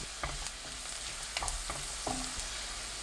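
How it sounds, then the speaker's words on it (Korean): Garlic stir-fries in cooking oil in a pan over medium-low heat. A soft constant sizzle runs underneath, and a few distinct spatula scrapes and taps fall at irregular intervals. "팬에 식용유 2큰술, 마늘 넣고 중약불로 볶아주세요."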